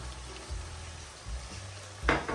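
Chicken pieces frying in a pan with a steady, quiet sizzle, broken by soft scrapes and a brief louder clatter of stirring near the end.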